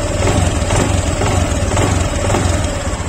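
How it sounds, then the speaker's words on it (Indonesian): Honda Beat Deluxe scooter engine revving, with the CVT bearing at the rear clicking: steady close engine drone under a faint rhythmic ticking. "nah itu di bagian belakang ada suara cetek-cetek. Ini biasanya laker ini, laker bak CVT-nya ini."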